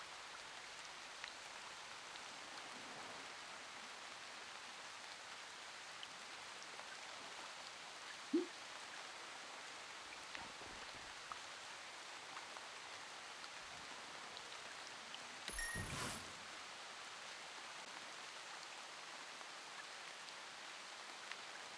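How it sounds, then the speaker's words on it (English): Steady rain beating down in Zwift cycling game audio, a soft even hiss of falling drops throughout, with a few faint isolated taps and one brief louder burst near the middle. "it's actually quite soothing listening to that beat down"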